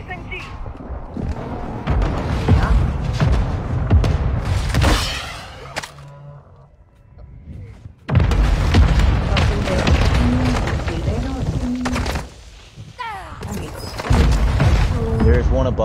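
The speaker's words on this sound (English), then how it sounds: "Mortar strike, mortar strike," Mortar strike explosions in the Fortnite video game, heavy booms and rapid blasts under excited talk from players, with a lull in the middle before another loud barrage.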